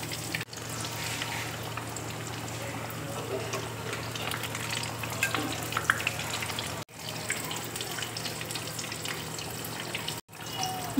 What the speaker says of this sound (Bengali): এই ভাজাগুলো কিন্তু আমি হাই ফ্লেমে ভাজবো।